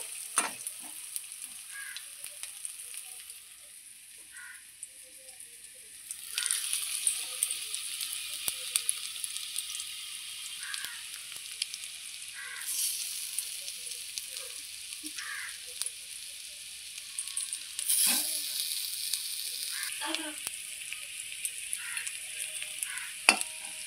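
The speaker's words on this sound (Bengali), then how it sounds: "দেখুন কত সুন্দর করে ভাজাটা হচ্ছে" Pieces of sojikochu (arum) fry in oil over low heat, crackling and sizzling steadily for a long stretch, with the hiss swelling at times and brief sharp pops and utensil taps scattered throughout.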